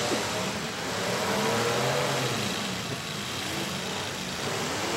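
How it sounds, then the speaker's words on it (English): A Mopar car's engine screams at full revs during a county fair demolition derby, a loud, steady, gritty roar that holds without a break over constant crowd and arena noise. "You hear that Mopar screaming."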